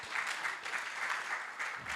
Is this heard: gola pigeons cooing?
no